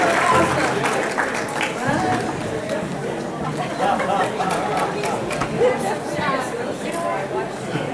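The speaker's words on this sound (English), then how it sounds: "The volunteers, give them a big round of applause." At an outdoor luau for temple workers, a crowd claps and cheers for volunteers, the applause mixed with chatter and people talking across the gathering.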